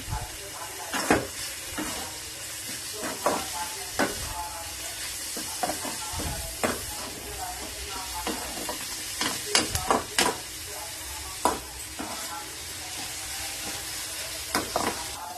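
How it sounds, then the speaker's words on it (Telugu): Butter sizzles steadily in a pan with salt and pepper as it is stirred, giving a continuous hiss broken by sharp scraping and tapping of the utensil against the pan. "లైట్గా సాల్ట్ అండ్ సమ్ పెప్పర్ వేసుకొని మనం మిక్స్ అయితే చేసేసుకుందాం"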